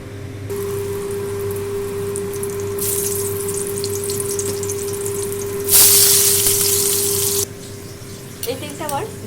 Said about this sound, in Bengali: এই তেলে আমি আলুগুলো ভেজে নেব।